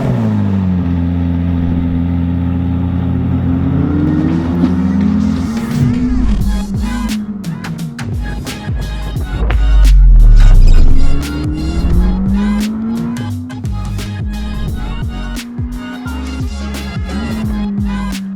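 A McLaren 620R sports car driven hard, the engine loud and close as it revs through rising gears, with a sharp roar peaking midway and crackling pops and bursts on lift-off afterward.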